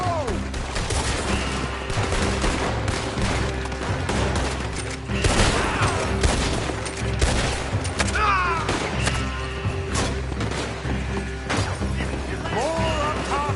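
Continuous bursts of automatic gunfire and impacts in a PS4 shooter game, dense loud volleys layered with thuds and crashes, while shouted game dialogue runs over the action.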